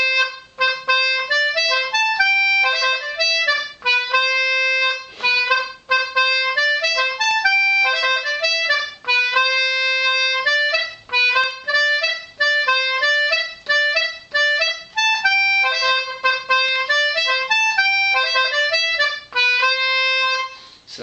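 A concertina plays a lively, reedy right-hand melody alone and up close, with quick, bright notes in a steady, dance-like rhythm and brief breaths between phrases.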